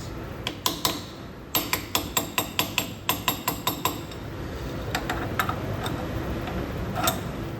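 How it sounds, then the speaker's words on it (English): A hammer taps a workpiece down into a milling vise: a quick run of sharp metallic knocks in a regular rhythm, then a few scattered lighter taps, close and moderately loud. "you're going to want to tap it down to get out any little gaps"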